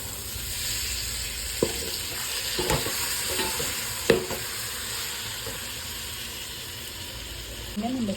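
Chicken leg pieces, about a kilo, frying in oily biryani masala, with a steady sizzle and a few sharp stirring scrapes of the spoon against the pan, close by and moderately loud.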